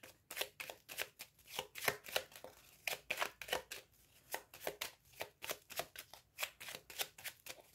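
Lenormand oracle cards are shuffled by hand in quick, crisp riffling bursts, a close rhythmic pattern of soft slaps repeating steadily throughout, with no voices.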